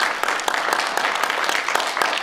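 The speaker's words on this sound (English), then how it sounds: "You may applaud Matthew wherever you are." A church congregation applauds, brisk dense clapping from many hands sustained throughout, filling the room at moderate loudness.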